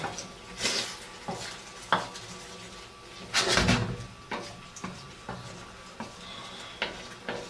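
A spoon scrapes and clinks around a pan of chilli seasoned with pepper and salt, giving irregular close metallic knocks and stirring swishes over several seconds with no voices.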